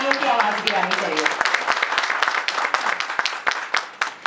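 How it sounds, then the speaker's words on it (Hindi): An audience applauds at a thank-you gathering, a steady patter of clapping with scattered sharper claps while voices speak over the start. "उसी तरह से तालियों की आवाज भी आनी चाहिए"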